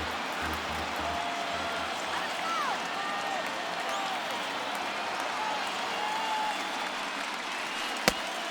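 Stadium crowd noise in a World Series baseball video game, a steady roar of cheering and applause filling the whole stretch, with a sharp crack near the end and no commentary over it.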